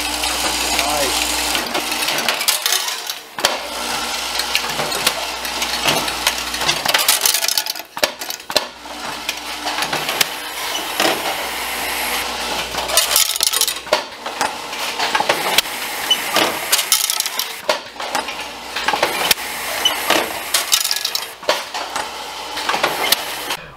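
A bolt hopper machine runs in a motorcycle hardware facility with only one hopper going, making a loud, dense metallic clatter and rattle that continues throughout. Occasional voices can be heard underneath the noise.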